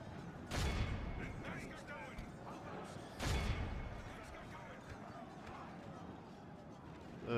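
Troops firing in a Divide and Conquer battle, with two distant booming volleys standing out over a low battlefield rumble and voices talking.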